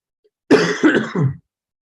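A close, loud throat clearing in three rough bursts, like a harsh cough, alone against silence.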